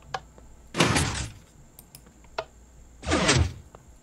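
Minecraft jeb doors in the game swinging open and shut, two clear bursts of wooden door clatter with a few small clicks between them, fairly close and free of talk.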